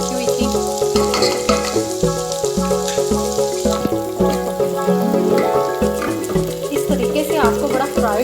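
Mutton mince roasts with green chilies in a hot pan, giving a loud, busy sizzle and spatter with stirring. A strong tonal background layer runs underneath throughout.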